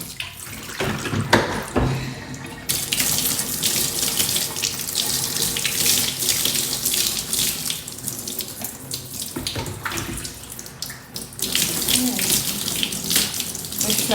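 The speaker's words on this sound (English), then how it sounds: "You all see the water is running so clear now." Tap water runs steadily while natural hair is rinsed clean under the stream, a loud, close hiss that shifts and splashes as the flow hits hair and basin, with brief pauses in between.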